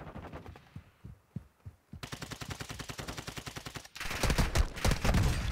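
Automatic gunfire in the video game Warzone 2.0: scattered single shots give way to a long rapid burst, then a louder, denser burst of fire close by, with no talk.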